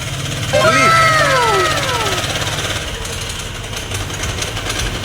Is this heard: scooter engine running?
yes